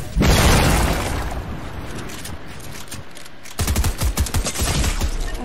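Gunfire in Fortnite: a loud blast opens, fades into a noisy lull, then a rapid burst of shots rattles close by through the final seconds, with no talk.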